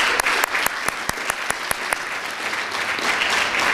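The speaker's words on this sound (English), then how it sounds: "Would you give them a round of applause?" Audience applause at a high school town hall meeting for student presenters, starting with a few distinct sharp claps that build into steady, dense clapping from a sizable crowd nearby.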